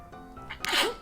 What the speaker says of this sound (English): When I can feel a sneeze coming on.